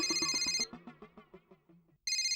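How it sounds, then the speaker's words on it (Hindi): An electronic phone ringtone plays a bright repeating melody, breaks into a descending run of short beeps, then resumes the ringing pattern. "हाथी भाई का फोन।"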